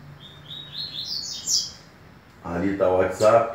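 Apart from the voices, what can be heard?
coleiro birds (Sporophila) singing at a tournament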